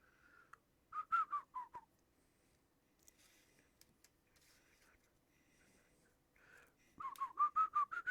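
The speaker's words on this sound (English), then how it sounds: "I wonder if my whistling could trigger the copy strike." A person whistles a tune indoors in two short bursts of quick, rising and falling notes. A quiet stretch with faint clicks and small noises separates them. The whistling is close and fairly clear, but soft overall.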